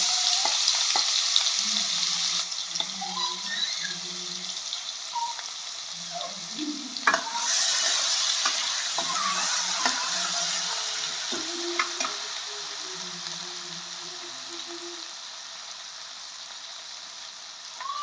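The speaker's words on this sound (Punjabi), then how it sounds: "ਹੁਣ ਅਸੀਂ ਵਿੱਚ ਐਡ ਕਰ ਦਾਂਗੇ ਲਸਣ ਅਦਰਕ ਦੀ ਪੇਸਟ" Garlic ginger paste fries in a hot pan with cumin for pav bhaji, a steady bright sizzle running throughout with scattered scrapes and clinks of a spoon stirring, close and moderately loud with no talking.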